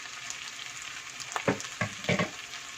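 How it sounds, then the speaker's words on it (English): Ground masala powder and tofu frying in a pan, a continuous soft sizzle with several scraping stirs toward the end. "I'm going to be now adding the masala powder that we have ground"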